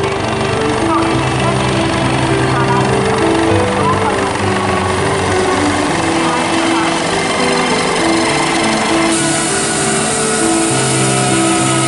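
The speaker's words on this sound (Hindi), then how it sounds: "राज मैदान में बने हेलीपैड पर हेलीकॉप्टर ने किया लैंड" A helicopter lands on the helipad at Raj Maidan in Darbhanga. Its steady, loud rotor and engine drone runs throughout with outdoor crowd noise mixed in.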